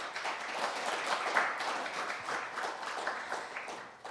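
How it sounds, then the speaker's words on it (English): An audience at a business forum applauds the speakers, a soft, distant, steady patter of many hands clapping in a large hall, continuing evenly with no voices over it. "Please give them another warm round of applause"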